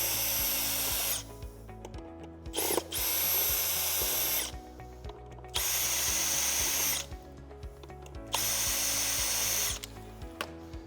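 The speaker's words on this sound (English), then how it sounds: "You will have to use your own Phillips head screwdriver, so either use a drill or just do it by hand." A power drill removes screws on an air bike in four whirring bursts separated by short pauses, close and loud, with a few clicks and rattles between the runs.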